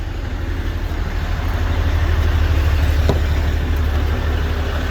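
A 2008 Duramax 6.6-liter turbo diesel truck engine idles steadily, a constant low rumble with a heavy bass drone, heard close and alone.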